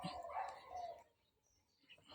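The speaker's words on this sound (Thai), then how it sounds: "หอนหอนหอนหอน" A faint, distant dog howl drawn out for about a second, then fading into quiet background with a light chirp near the end.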